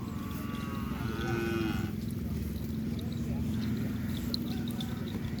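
Cattle held in a pen in Pamekasan, a low drawn-out moo among steady farmyard background noise, with someone talking over it throughout.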